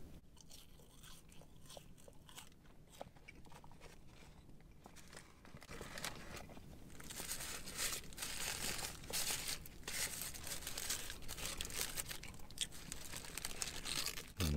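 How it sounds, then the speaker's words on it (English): A fast-food cheeseburger wrapper is peeled open up close with steady crinkling and rustling paper that grows louder and denser partway through, alone without talk. "I'll just unwrap the cheeseburger and give you a quick squeeze."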